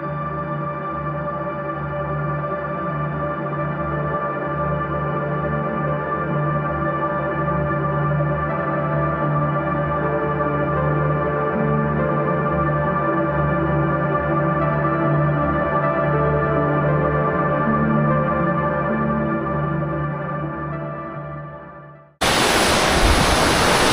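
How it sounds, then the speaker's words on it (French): A waterfall on a mountain hike roars as a steady, dense, loud rush for over twenty seconds, cutting off abruptly to a brief different burst of noise at the end. "là on arrive à une magnifique cascade, celle qu'on voyait tout à l'heure d'en bas"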